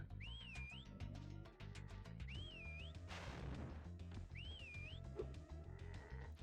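A character in the video game Spyro 2: Ripto's Rage whistles a short rising and falling tune three times over game music, with crashes and thumps in between.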